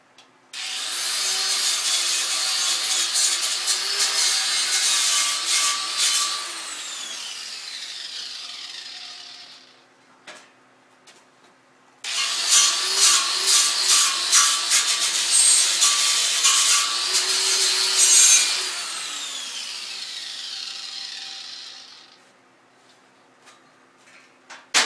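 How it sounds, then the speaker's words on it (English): A bench or angle grinder works metal beside a mini lathe stand, close to the power cord, in two long loud bursts with the motor winding down between them, alone with no talk. "Grind right by the power cord."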